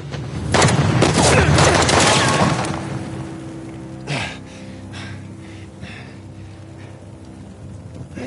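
Gunfire in the video game Uncharted: The Lost Legacy crackles in a dense, loud burst over the first couple of seconds, then a single heavier shot follows amid quieter scattered impacts and rain-like noise.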